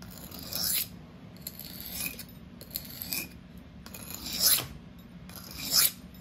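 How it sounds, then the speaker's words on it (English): A REX-45 steel knife blade is drawn freehand across a sharpening stone in slow, separate rasping strokes, close and fairly loud, a few seconds apart. "So this is me just getting that first layer of steel off and just forming a burr."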